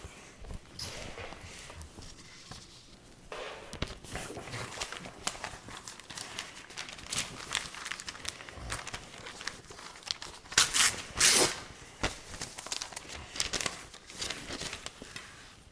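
A sheet of paper rustles and crinkles as it is handled and then sliced with a Moritaka AS 250 mm gyuto chef's knife, with a dense run of crisp scraping cuts partway through at close range.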